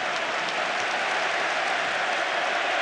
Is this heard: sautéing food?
no